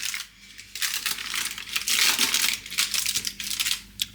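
A paper liner holding fried eggs is grabbed and pulled out of an air fryer basket, giving close, fairly loud crinkling and rustling paper bursts over a faint steady hum.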